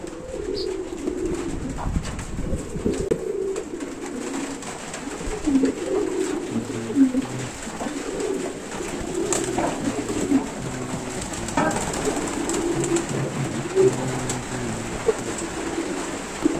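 Young loft pigeons bathe in a light rain shower, cooing softly and repeatedly up close. Steady patter of raindrops and occasional wing flutters sit under the calls.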